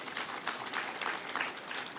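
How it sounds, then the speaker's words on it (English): Distant, fairly quiet applause rises from a crowd of dignitaries at the official opening of Bunge Tower in Nairobi, with a continuous patter of hand claps in a large space. "give them a round of applause"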